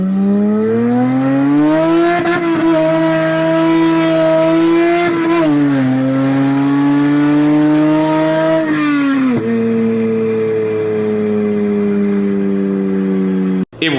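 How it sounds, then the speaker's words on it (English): A J32 V6-swapped EK Honda Civic drones loudly from inside the cabin, revving up through gears with rising pitch, then dropping as it shifts, continuous throughout. "we got to look at John's J32 swap EK Civic. We took a ride in the car"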